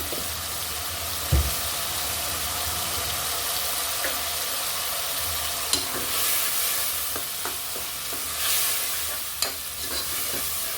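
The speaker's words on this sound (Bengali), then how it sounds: "ভালো করে এবার কষিয়ে নিব" Spiced gourd stir-frying in a pan with green chili paste and coriander paste, a steady close sizzle under scattered scrapes and clinks of a spatula, with no talking.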